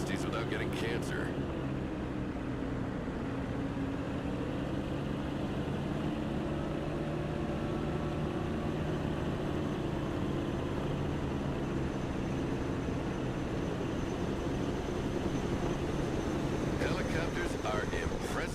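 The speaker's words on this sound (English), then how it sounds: "Helicopters are impressive machines. Boy, are they noisy." Helicopter engine noise in a video game: a steady, continuous low rotor and turbine drone holds at an even level throughout, with faint clicks at the start and end.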